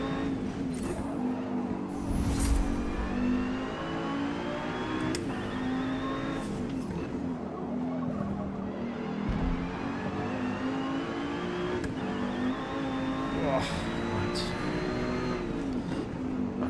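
An Audi GTO race car engine in Forza Motorsport on the Nürburgring, droning steadily loud and close as it revs up and down through gear changes, with a few brief sharper bursts over the continuous engine note.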